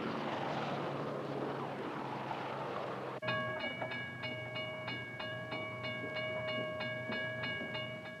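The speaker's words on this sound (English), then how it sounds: "Yes, trains like this are a fast way to move many people from the suburbs to their jobs in the city." A commuter train runs through a heavy rumbling wash, then a bright, evenly spaced series of ringing tones pulses over the continuous roar, fairly faint and distant-sounding with no speech.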